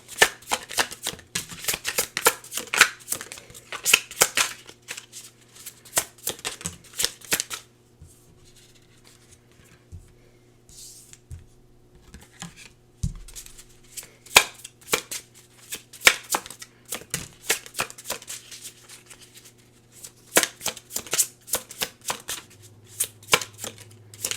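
Tarot cards being shuffled by hand, repeated bursts of crisp riffling and sliding card sounds close up, with a pause in the middle and a steady low background hum throughout, no talking.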